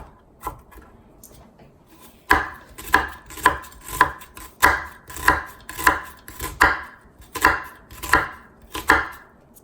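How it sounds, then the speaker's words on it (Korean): A kitchen knife minces onion on a cutting board, a few light taps at first, then a steady run of sharp, evenly spaced chops, close and alone with no talk. "양파 다지기가 힘들잖아요. 이렇게 한 면을 곱게 썰은 다음에 중간에 칼집을 한 번, 두 번 이렇게 내세요."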